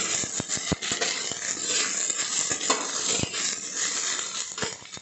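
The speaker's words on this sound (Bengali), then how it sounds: "দিয়ে 5 থেকে 7 মিনিট মতো ভালো করে নাড়াচাড়া করে নেব, যাতে সবজিগুলো ভালো করে ভাজা ভাজা হয়ে যায়।" Vegetables being stirred and fried in a pan for a Bengali bhetki fish curry: a spatula clinks and scrapes against the pan in irregular knocks over a soft, continuous sizzle, close and fairly quiet, with no talking.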